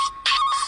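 A mobile phone rings in an indoor movie scene with a steady electronic tone in three short bursts, loud and close, with a brief gap between bursts.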